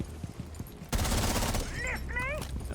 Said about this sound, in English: I'm trying to get a free wall bang here.